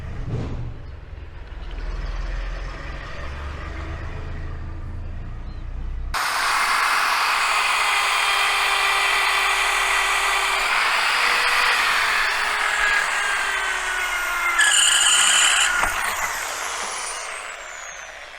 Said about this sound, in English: in this bike we have to drill a hole